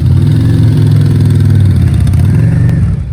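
Noisy motorbikes rumble loud and close with a steady, rough mid-pitched engine drone and slight revving, passing without pause before the noise trails off at the end.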